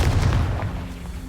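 A Confringo fire-blast spell explodes in the Hogwarts Legacy video game, a short loud boom with a rumbling low burst that fades out over about a second.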